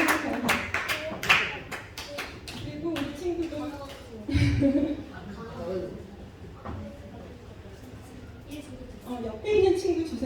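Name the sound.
audience clapping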